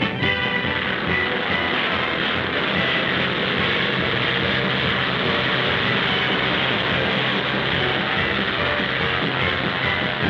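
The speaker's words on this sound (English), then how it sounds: "here's the first Airacobra to roll off the new assembly line, all ready to fly" A Bell Airacobra fighter on a powered aircraft assembly line, its steady loud engine drone roaring continuously and evenly without a break, with no voices over it.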